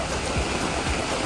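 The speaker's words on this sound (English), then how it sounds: "the rain calms down outside because it's going at an angle right now" Heavy rain pours down outside a van in a rainforest, a dense steady roar of drops close by and uninterrupted, with no voices.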